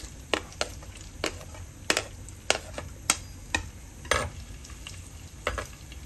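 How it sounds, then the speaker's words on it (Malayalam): Ginger frying in hot coconut oil, a soft steady sizzle broken by sharp, irregular crackles and pops close by. "നമ്മുടെ വെളിച്ചെണ്ണ ചൂടായിട്ടുണ്ട് അതിലേക്ക് നമുക്ക് വറുത്ത് എടുക്കാനായിട്ട് നമുക്ക് ഇഞ്ചി ഇട്ട് കൊടുക്കാം"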